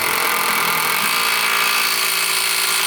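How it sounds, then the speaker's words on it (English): Cordless power drill driving a 16mm bolt on a Rockarmor GT bull bar being fitted to a Mitsubishi Triton, a steady whirring hum held at an even pitch, close and alone. "so I'm going to use a drill."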